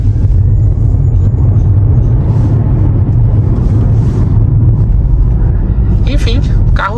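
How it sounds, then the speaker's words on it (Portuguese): A BYD Han electric car with 494 horsepower accelerates hard in a test, a loud, dense rumble of road and wind noise that holds steady, with brief brighter noises toward the end. "Testezinho de aceleração agora."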